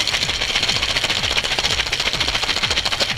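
A cocktail shaker holding a Tequila Singapore Sling with lemon juice is shaken vigorously and rapidly, giving a close, rhythmic rattle of ice that keeps going without a break.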